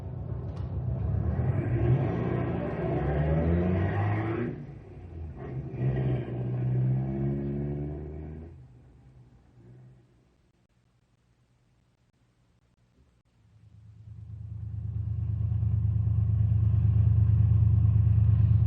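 Car engines rev on a road, rising and falling in a loud low rumble for several seconds, dropping away to near silence, then returning as a steady, heavy idle drone.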